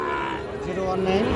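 A Sahiwal bull calf moos in a long, low, drawn-out call, close and fairly loud, with faint farmyard background noise.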